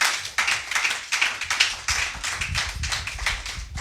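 A church congregation claps and acclaims together, a steady run of sharp, dense claps with cheering rising beneath them, loud and close throughout.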